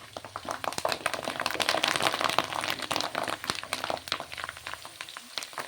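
Curry leaves fry in hot oil for an Andhra gongura pickle, giving a busy, crackling sizzle with frequent sharp pops and spatters that carries steadily throughout at close range.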